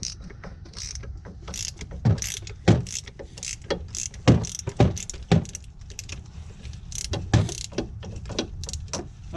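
A ratchet or wrench clicks and ratchets in uneven bursts while a bolt is backed out of an Audi B7 A4 steering knuckle. The sharp metallic clicks come up close among quieter mechanical rattling, with no talking.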